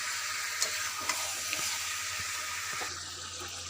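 Meat, chicken or mutton, cooks in its released juices in a pan, a continuous watery sizzle with a few soft stirring knocks at a close distance.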